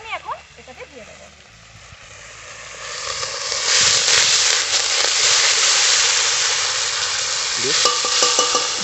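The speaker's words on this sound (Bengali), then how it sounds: "এই পেস্টটা আমি এখন এটাতে দিয়ে দেবো।" Mustard and green chili paste frying in a pan, a steady broad sizzle that swells louder after a few seconds with stirring scrapes, while people talk over it.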